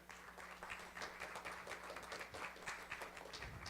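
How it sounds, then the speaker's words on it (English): Soft, distant applause from an audience at a land policy forum anniversary event, with scattered claps holding steady under a low hum. "Thank you for your applause"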